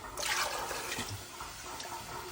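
Water pours into a pot of kidney beans on a stove, a steady splashing rush for a couple of seconds, fairly quiet and heard alone.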